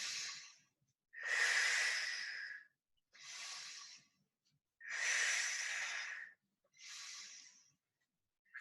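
Heavy, close breaths during a floor exercise class, five long hissing exhalations and inhalations in a slow, regular rhythm with silence in between.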